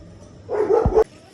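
A single short bark from a dog nearby, sharp and brief against a quiet background.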